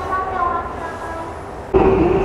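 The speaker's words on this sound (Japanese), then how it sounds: "じゃあ大阪駅に行く列車に乗ります" Interior rumble of a Tokaido Main Line train bound for Osaka, steady and loud, with a sudden jump in noise partway through as a tone rises over the rolling clatter.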